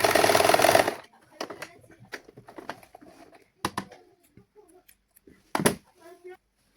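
A Singer sewing machine stitching a saree blouse runs in one loud, dense burst at the start, then falls away into quiet rustling and a few short clicks and handling noises.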